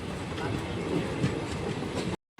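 Passenger train 59562 rumbles into Jetalsar junction, a loud, continuous clatter of wheels and carriages heard close from on board, cutting off abruptly near the end.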